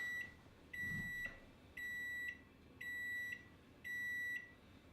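A kitchen oven signals it has finished preheating with a series of four evenly spaced electronic beeps, each about half a second long, clear and moderately near.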